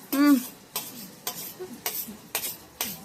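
Kondakadalai sundal with garlic, green chilli and small onions is stirred in a frying pan, a spoon scraping in about six distinct strokes over a soft sizzle, with no speech.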